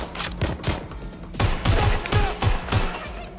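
Rapid bursts of gunfire in the video game Watch Dogs: Legion, loud and close, firing in a quick stuttering rhythm of repeated shots with no talk over them.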